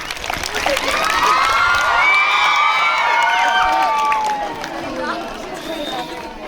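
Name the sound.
students applauding and cheering loudly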